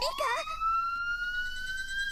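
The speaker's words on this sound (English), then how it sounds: "it sounds like a police siren" A police siren rises and falls in a Higurashi video game, a sustained electronic wail with gliding tones that starts with a warbling sweep, then holds steady and fairly loud for about two seconds.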